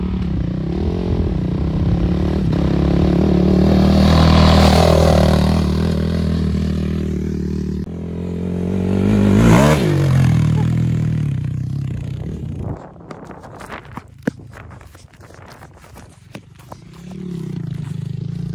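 A 450 dirt bike engine roars and revs loudly as it starts, surging twice, then cuts to sputtering clatter and scraping before idling low again.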